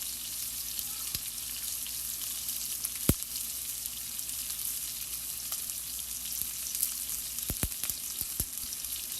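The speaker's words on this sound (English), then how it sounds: "That popping on that steak sound real good." A T-bone steak sizzles steadily in a hot pan, with a dense hiss broken by sharp, irregular pops and crackles, close and continuous with no talking.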